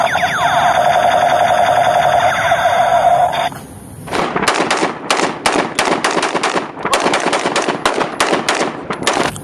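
Toy M16 assault rifle gives a loud electronic warbling tone for about three seconds, then a rapid burst of sharp repeated mechanical gunfire clicks that keeps going, up close and alone.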